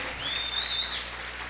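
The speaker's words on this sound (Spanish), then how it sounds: "Vamos a aplaudir fuerte al Señor en esta hora." Steady applause from a church congregation during a sermon, a dense crowd clapping continuously with a high, thin whistle-like tone rising briefly above it.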